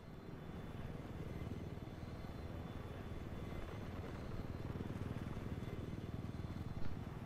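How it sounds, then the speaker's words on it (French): An attack helicopter in Battlefield 4's Siege of Shanghai map drones with a dense, rapid low rotor chop and engine rumble, steady and close for the whole stretch with no talk. "je suis dans l'hélicoptère de combat"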